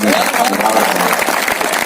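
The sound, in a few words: audience applause at poetry mushaira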